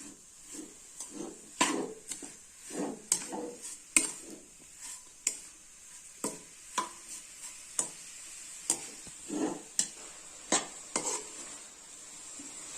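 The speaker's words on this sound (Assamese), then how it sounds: "এইবাৰ নাৰিকলখিনি মই দীঘলে দীঘলে কৰি ৰুকি ল'লোঁ" A utensil stirs coconut roasting with melting sugar in a pan, making repeated sharp scrapes and clicks over a soft sizzle in a steady, close rhythm with no talking.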